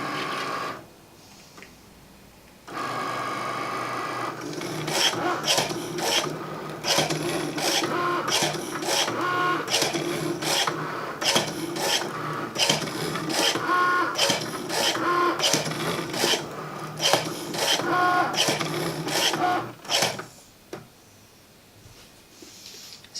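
Cricut Maker cutting satin silk fabric, a machine whirring and buzzing in repeated short bursts with brief pauses as the blade moves, close and moderately loud, beginning after a quiet start and stopping near the end.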